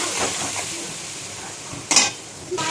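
A fish head with light spices stir-fries in a pan for a tangra fish and kochu shak curry, giving a continuous sizzle with stirring scrapes and a sharp utensil clank against the pan near the end.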